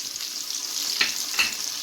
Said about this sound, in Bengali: এরপর আমি এখানে এই পেঁয়াজ রসুন আর আদাটা বাটা ছিল এটা আমি দিয়ে দিচ্ছি